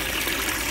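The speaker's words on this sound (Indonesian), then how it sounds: "Kemudian keran keempat kita buka." Water rushes steadily from the fourth opened tap, supplied by a Sanyo PH137AC pump, a loud continuous hissing flow with no pauses.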